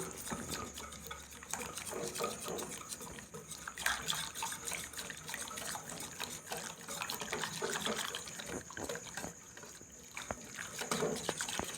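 Warm water poured into rice cake batter while it is mixed in a kitchen: a steady, continuous splashing and trickling wash lasting throughout, with nobody talking.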